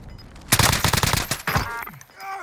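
Gunfire in a shooter game bursts in suddenly as a loud, rapid string of automatic shots lasting about a second, followed by scattered fainter shots and ringing game sounds.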